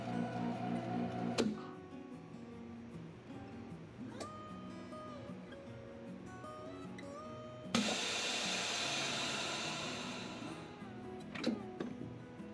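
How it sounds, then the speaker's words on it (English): A vacuum sealer hums with a ticking rhythm, then a louder hissing whir kicks in for a few seconds as it seals a bag of sweet corn before fading, followed by a click. "We're simply going to just vacuum seal these and toss them in the freezer."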